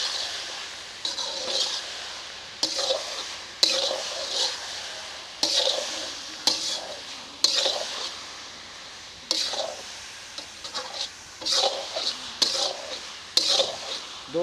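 Milk halwa stirred and cooked in a pan: repeated scraping strokes of a spoon against the metal, in a steady rhythm with a soft sizzle underneath, close and moderately quiet.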